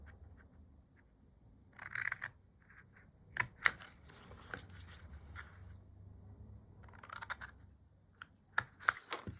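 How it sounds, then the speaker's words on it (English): Large scissors cutting the cardstock base of a potion bottle craft, giving quiet crisp snips and short clusters of cuts separated by pauses, close up in a quiet room. "I'm going to cut up each of these 2 inch lines to the 2 inch mark."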